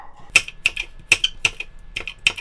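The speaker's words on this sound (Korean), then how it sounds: "고추도 좀 썰고." A knife chops Cheongyang chili peppers on a board, seven or eight sharp, close taps in an uneven rhythm with no talk.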